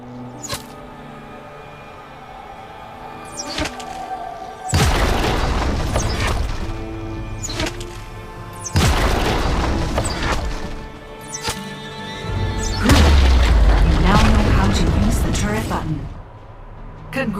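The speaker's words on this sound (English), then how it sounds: "Destroy the enemy turret." An enemy turret in League of Legends: Wild Rift is destroyed, with three heavy booming impact bursts over quieter game ambience and a spoken voice.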